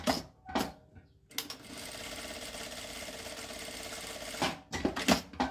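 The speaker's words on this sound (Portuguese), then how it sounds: "Eu vou passar uma costurinha nessa partezinha reta" A sewing machine runs steadily for about three seconds, stitching a short straight seam through fabric layered over nonwoven backing, with a dense mechanical chatter; quiet handling noises come before and after.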